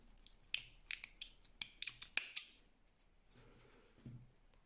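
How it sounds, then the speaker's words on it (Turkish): Scissors snip through yarn threads, about nine or ten short, crisp cuts in quick, uneven succession close up, then quieter handling noise. "Şu en son yürüttüğüm iplerimi kesiyorum."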